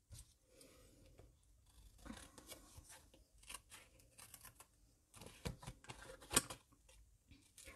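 Scissors snipping around the edge of a paper card for a small handmade photo pouch, heard as soft, close, irregular cuts and paper rustles with a faint room background and no talking.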